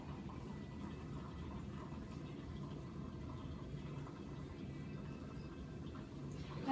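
A Keurig coffee machine running its descaling cycle gives a steady, continuous low hum and watery gurgle that carries evenly throughout, with no voices.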